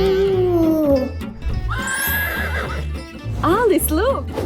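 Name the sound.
horse neighing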